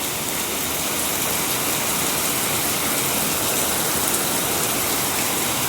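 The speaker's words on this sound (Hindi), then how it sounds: "बहुत तेज बारिश हो रहा है।" Heavy monsoon downpour pounding a flooded road outside a house, a dense, unbroken roar of rain, loud and close, with no voices.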